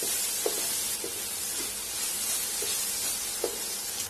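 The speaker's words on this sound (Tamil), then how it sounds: "இப்போ இதை நல்லா இதோட சேர்த்து வதக்கி விடுங்க." Minced shark fish being sautéed in a pan for sura puttu, a constant dense sizzle and hiss with a few light spatula taps spaced through it, close and even, with no voices.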